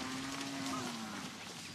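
A single head of cattle lets out one long, drawn-out low moo that slowly falls in pitch over about a second and a half, heard alone against a soft background.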